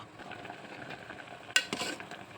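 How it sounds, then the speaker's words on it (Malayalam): Oil crackles and spits in a hot pan as a curry tempering with curry leaves, flaring into a loud burst of sizzling partway through and staying lively after, with no voices. "ഇനി ഒന്ന് വറവിട്ടണത് കേട്ടോ"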